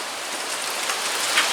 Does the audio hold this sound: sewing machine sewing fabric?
no